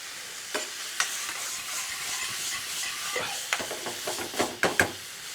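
Tomatoes and base gravy sizzle and steam in a pan for Bombay potatoes, a steady hiss broken by repeated stirring scrapes and utensil knocks that grow busier toward the end.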